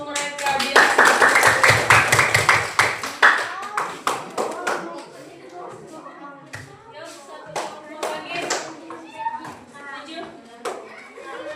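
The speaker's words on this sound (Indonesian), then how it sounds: "kasih aplaus untuk mereka" Students in a junior high school classroom break into loud, dense applause for a few seconds, mixed with children's chatter, before the clapping fades into scattered taps and kids' voices.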